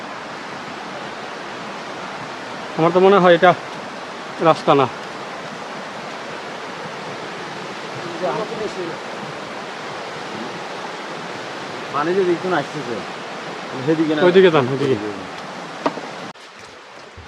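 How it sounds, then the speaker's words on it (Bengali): The Khoiyachora waterfall roars steadily, an unbroken wash of falling water that fills the whole clip while people talk briefly over it. "অবশেষে আমি ঝর্ণার শব্দ স্পষ্ট শুনতে পাচ্ছি, পানি পড়ার একটানা গর্জন যেন হৃদয় কাঁপিয়ে দিচ্ছে।"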